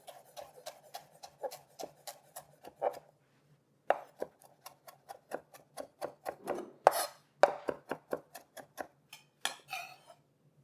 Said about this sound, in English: Just bunch the leaves up and finely chop them.